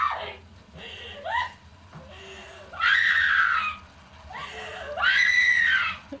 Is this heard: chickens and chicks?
no